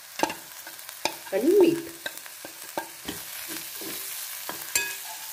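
Masala of chilli powder, pav bhaji masala and coriander-cumin powder roasting and being stirred in a pan for methi amti, with close scraping stir strokes and a soft sizzle; a voice speaks briefly at the start.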